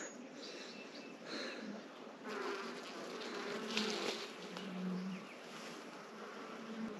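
Honey bees buzz in a continuous, fairly quiet drone around an open beehive during an inspection, the hum swelling a little as they move nearby.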